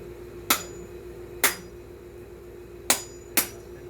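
Four sharp, hard knocks of a blade spine against a coconut shell, irregularly spaced, each a crisp impact with a short ring, over a steady low hum.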